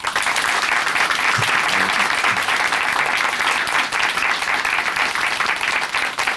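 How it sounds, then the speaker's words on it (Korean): Sustained applause from a church congregation, dense and steady clapping throughout with no pauses. "박수로 함께 축하해드릴까요?"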